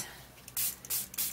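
A spray bottle mists water onto a paper craft banner colored with Color Gelatos, three short, close hissing bursts in quick succession, with faint handling noise between them.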